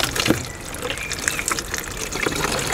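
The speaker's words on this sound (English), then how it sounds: "and run the water into it" Water drains from a caravan cassette toilet into a container with a steady, close trickling gush that continues throughout.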